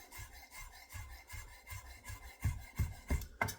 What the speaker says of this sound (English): the basil by rolling it up and thinly slicing it